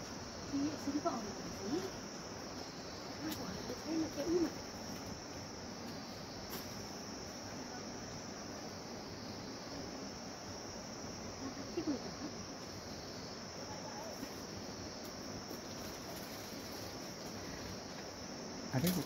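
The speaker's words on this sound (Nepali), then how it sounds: "अब आयो मौरी आयो है।" A swarm of bees arrives outdoors, making a steady, dense, droning buzz that fills the whole stretch at moderate distance, with faint human voices now and then.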